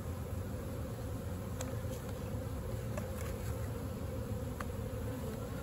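Honeybees swarming around a split hive with queen cells, a dense, steady buzzing drone close to the microphone, with a few individual bees whizzing past.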